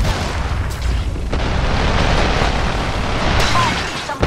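Bomb blasts in the battle-royale video game Apex Legends: a loud, booming run of explosions with low rumble and a couple of sharp bursts, one near the start and another late, over continuous gameplay noise.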